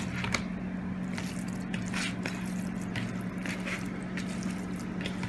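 Soft, wet squishing and squelching as raw goat liver is worked with salt and spices by hand, a continuous close sticky mixing with small irregular slaps, no speech.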